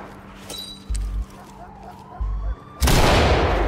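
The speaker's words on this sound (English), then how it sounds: "You got a flashbang ready? I'm gonna breach it." A flashbang detonates during a door breach in the tactical shooter Ready or Not: two dull low thuds come first, then a sudden, loud, sustained blast of harsh noise fills the rest of the moment.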